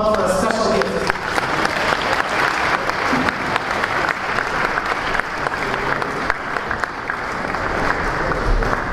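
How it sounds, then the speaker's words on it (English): Sustained applause from a large crowd, steady and loud throughout, with dense clapping that never lets up. "Please give a round of applause to Moshe Zalman Olive."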